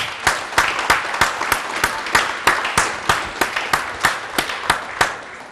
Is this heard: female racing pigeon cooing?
no